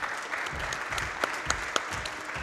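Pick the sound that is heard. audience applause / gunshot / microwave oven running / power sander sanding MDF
audience applause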